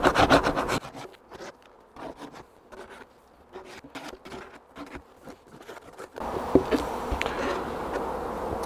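Bees from an open hive during a varroa treatment check, a steady insect buzz close by, joined by scraping and rubbing as the crown board is cleaned, growing louder toward the end.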